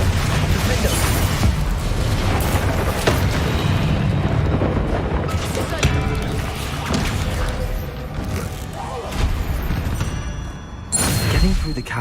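Hogwarts Legacy game combat with a Bombarda spell explosion among other spell effects, a dense, continuous roar of booms and blasts with a loud burst near the end, under game music and sound effects.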